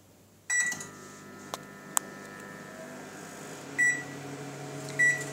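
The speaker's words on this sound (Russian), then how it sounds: "Разравниваем и ложим в микроволновку" Chocolate popcorn cooking in a microwave oven at full power: a steady low hum with a couple of sharp clicks and repeated electronic beeps.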